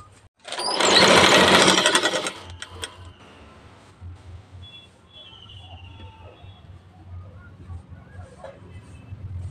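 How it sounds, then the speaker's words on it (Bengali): A sewing machine stitching blouse pieces runs in one loud burst of about two seconds, then a voice talks over faint handling noise and a low hum. "রেখে আমি এখানে সেলাইটা প্রথমে করে নিচ্ছি"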